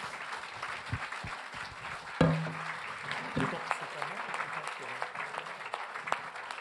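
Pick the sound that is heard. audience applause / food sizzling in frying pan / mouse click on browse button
audience applause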